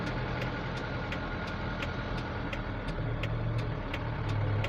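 A Mitsubishi Canter Super Speed 2020 truck carrying a 9.5-ton load idles with a steady mid-low engine drone and a faint regular ticking, heard close and continuous with no talk.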